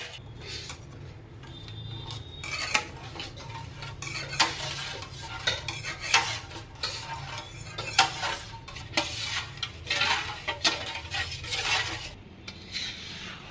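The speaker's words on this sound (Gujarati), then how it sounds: "શેકેલા લોટને આવી રીતે ફેરવતું રહેવાનું" Roasted flour for mohanthal being stirred and turned with a spatula in a hot pan over a low flame, giving steady rhythmic scraping and clinking strokes with a soft sizzle underneath, close and continuous.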